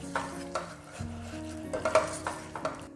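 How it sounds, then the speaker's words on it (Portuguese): Onion and garlic with salt, black pepper and smoked paprika frying in a pot for corn soup: a soft sizzle under spoon stirring and light scraping clinks, quiet and close, with no talking. "E agora frite aqui até que você perceba que a cebola e o alho estejam completamente refogados"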